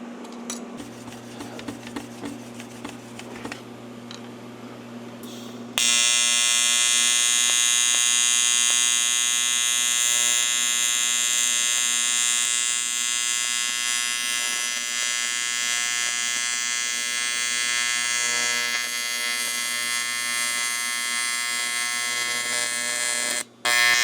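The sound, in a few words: AC TIG welder welding metal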